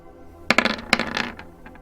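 Six dice rolled for a tabletop role-playing game, a quick clatter of several sharp knocks and rattles that then settles into a few fainter taps, heard close and alone.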